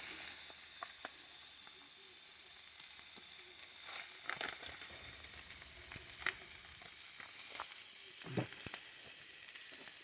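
Ribeye steaks sizzle steadily on a very hot grill, a continuous bright hiss close up with scattered pops and crackles and no talking.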